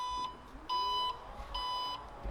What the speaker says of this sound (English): Hold that down and wait for the beeps, and it will program the actual height